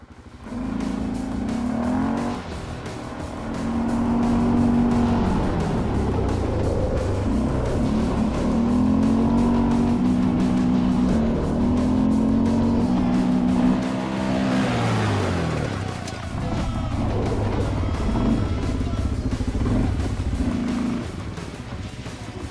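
Sport quad bike engine running on a race track, a steady loud motor drone with pitch rising and falling through revs across the whole stretch, close by and without talk.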